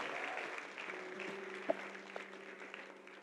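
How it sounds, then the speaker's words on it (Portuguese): A church congregation claps together during a worship service, producing a soft, steady patter of applause with a faint sustained tone running underneath throughout. "Aplauda o Senhor, meu irmão."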